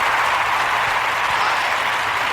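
Steady applause from a meeting audience, a continuous even wash of clapping that stays loud throughout, with no talking over it.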